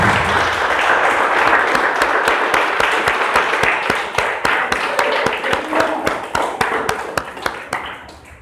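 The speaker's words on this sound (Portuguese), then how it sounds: "Vamos dar uma salva de palmas a Jesus." A church congregation at a service claps together in a dense, loud burst of applause that gradually thins into scattered individual claps.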